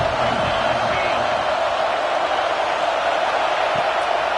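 A packed football stadium crowd roars steadily during a third-down play in the red zone, a constant dense wash of cheering heard from afar, unbroken throughout.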